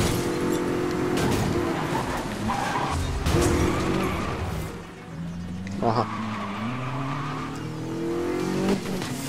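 A car accelerates hard during a race in Need for Speed Most Wanted (2012), its engine climbing in pitch through gear changes while tires squeal and skid; a short spoken interjection cuts in over the loud engine.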